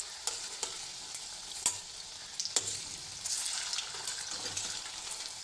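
An egg snack fries in hot oil after being turned over, a steady close sizzle with scattered crackling pops and a few stirring clicks, no voices.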